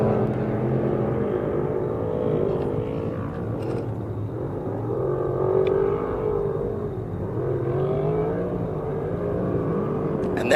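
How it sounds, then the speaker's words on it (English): A Legacy Racing Association trophy truck, number 6158, runs during Baja Nevada off-road qualifying, its engine held at high revs with rising and falling surges, loud and continuous with talk over it. "you can hear the drastically difference in driving style as Jason on the gas, on the pipe, and keeping that truck spooled up"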